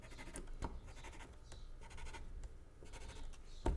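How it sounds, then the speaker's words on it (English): A marker making short marks on thin paper along a ruler at one-inch intervals, giving several brief scratchy strokes spaced through the clip, close and fairly quiet. "I've got my ruler and I'm going to do a little mark at every 1 inch"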